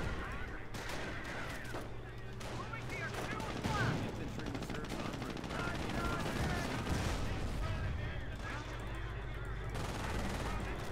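MG42 machine gun fire in the World War II strategy game Company of Heroes during the Normandy campaign at Cherbourg, with sustained rattling bursts and battle noise running continuously under voices talking.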